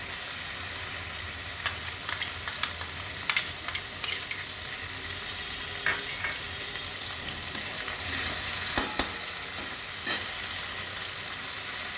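Ground mustard, poppy seed and green chili paste hitting hot oil, giving a continuous close sizzle with scattered scraping stirs and small clicks throughout, no talking.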